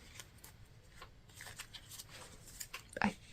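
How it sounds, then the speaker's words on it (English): Tarot cards shuffled by hand, soft repeated papery slides and flicks close by at a gentle uneven rhythm, ending with a sharper tap near the end, quiet overall. "as I'm shuffling out these cards"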